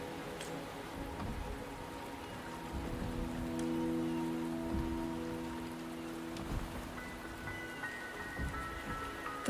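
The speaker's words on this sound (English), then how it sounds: "The rain is subsiding," Soft, steady rainfall patters in the video game Wuthering Waves, quiet and continuous beneath faint sustained musical tones.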